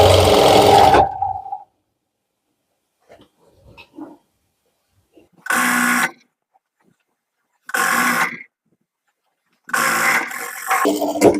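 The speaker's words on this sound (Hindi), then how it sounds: "इस तरह से आपको सिलाई लगा लेनी है।" Sewing machine running in short bursts: one long stretch of stitching, then three separate runs of about a second each with silent pauses between, close and loud, with faint handling noises in the gaps.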